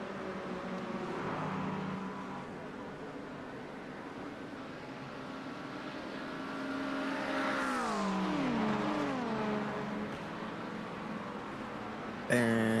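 An LMP2 prototype race car at Road America sweeps past in a sim race, its engine note rising and then falling as it goes by, beneath faint commentary.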